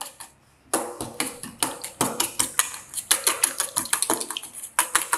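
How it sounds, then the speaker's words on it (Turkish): A whisk clatters rapidly against a bowl, beating eggs into peach tart batter with quick irregular clicks and taps, close and moderately loud after a brief quiet start. "Bakın hiçbir pütürlük kalmayana kadar çırptım."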